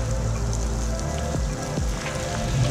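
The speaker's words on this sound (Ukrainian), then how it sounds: "Сніжок вже переріс в дощик" Rain falling in a Carpathian forest after snow turned to rain, a steady patter of drops on leaves and surfaces close by, with a few low thumps underneath and no speech.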